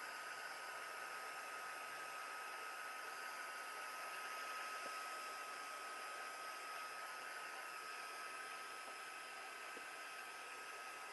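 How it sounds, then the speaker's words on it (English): A heat tool blows steadily for the whole stretch, drying sand texture paste on a mixed media page, with a continuous, even, fan-like whoosh and whine, close and alone without talk. "we're just going to dry the sand texture"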